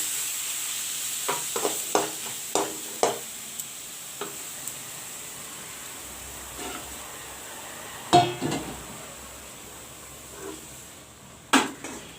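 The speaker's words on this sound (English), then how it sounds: "The saag and the masala is fried well." Pumpkin saag fried with masala in a pan, a steady close sizzle throughout, punctuated by a dozen sharp clinks and scrapes of the stirring utensil against the pan.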